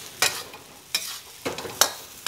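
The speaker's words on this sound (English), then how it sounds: "can you throw these in a frying pan with a little oil?" Noodles dropped into hot oil in a frying pan crackle and sizzle in short, bright bursts, four or five sharp puffs a moment apart, close and fairly loud with no talking.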